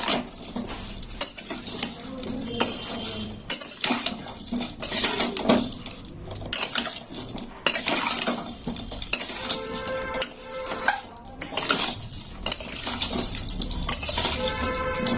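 Red potato curry being mixed in a pan with chili powder, turmeric and a spoonful of sugar: steady scraping and clinking of a utensil against the metal pan, with light sizzling underneath and no talking.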